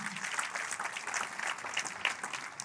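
Sustained applause from a church congregation during a sermon, dense and steady throughout, with no speech over it.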